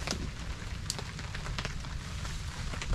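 Heavy rain pouring steadily during outdoor cooking of a ginataan dish, a dense even hiss with scattered drop hits and patter throughout, fairly loud and continuous with no talk.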